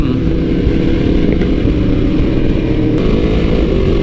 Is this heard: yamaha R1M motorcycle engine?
yes